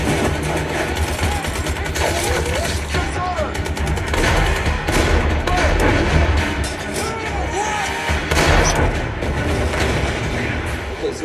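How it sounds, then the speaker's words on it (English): Tanks firing during a film battle scene, a dense, loud barrage of booming gunfire, rumbling engines and explosions over a constant heavy low roar, with voices mixed in. "If you've never heard a tank firing at another tank, it sounds exactly like this."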